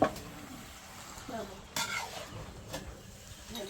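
Noodles stir-fried in a pan in a home kitchen cooking lunch for rice-harvest workers, with a soft sizzle under scraping and clanking stir strokes, close by, and faint background noise.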